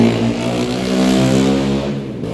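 Jeep and bus passing on a road, a loud steady engine drone with a low rumble that holds close for a couple of seconds and then starts to fade.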